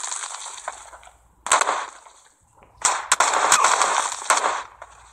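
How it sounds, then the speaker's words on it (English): Gunfire in the mobile shooter PUBG Mobile, sharp bursts of rapid shots in clusters separated by brief lulls, loud and close with a crackling rattle. "See, I'm getting shot"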